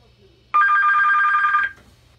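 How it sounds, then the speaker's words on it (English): A DSC marine radio rings on the vessel being called, a single loud, steady electronic ring lasting about a second over a faint low hum, then stopping abruptly. "on a vessel being called, the ring sounds like this."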